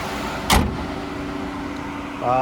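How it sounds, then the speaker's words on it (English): A 2019 Nissan X-Trail ST engine idles with a steady low hum, broken by one sharp click near the start and a brief mechanical whir at the end. "as we listen to it run, making sure there's no major knocks, rattles, squeals. The motor's ticking over nicely."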